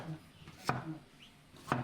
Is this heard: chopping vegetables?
yes